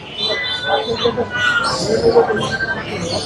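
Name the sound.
cats meowing at a cat market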